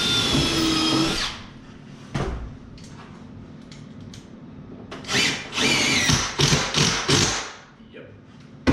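A power drill whirs loudly driving a screw through a 36-inch wide kitchen cabinet into a wall stud, starting with a sustained run, then several short whining bursts and tool clatter.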